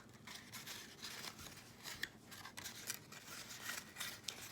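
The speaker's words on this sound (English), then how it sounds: "So I'm going to cut here, and then one more time I'm going to cut here." Scissors snip through paper while flower petals are cut for a kindergarten craft, a quick series of close, faint crisp cuts and rustles with no talk.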